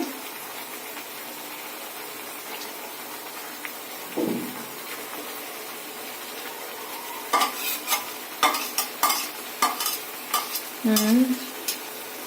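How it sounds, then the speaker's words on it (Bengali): Chicken pieces go into a pan of spice paste, frying with a soft continuous sizzle, then a spoon scrapes and stirs in a series of quick rasping strokes, with a brief splashy gush near the end. "এখন আমরা মাংসটা দিয়ে দিচ্ছি।"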